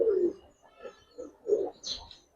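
Giribaz pigeons at a pigeon farm give faint, low cooing notes in a broken sequence of short bursts, with a brief higher chirp near the end, fairly quiet and close.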